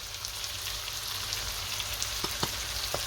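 Vegetables frying and starting to caramelize in a pan while braising beef short ribs, giving a steady close sizzle with a few brief crackles and pops, no voices.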